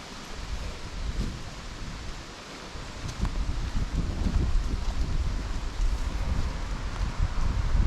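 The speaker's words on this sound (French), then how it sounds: "ça m'emmerde qu'il y ait du vent" Wind gusting steadily outdoors with dry fallen leaves rustling and scraping along a walking path, a continuous broadband wash that swells in the middle and stays moderately loud throughout.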